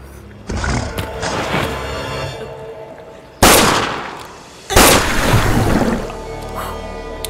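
Two loud gunshots ring out, spaced about a second apart, each a sharp blast with a long echoing decay, against a background of rumble and scattered noise.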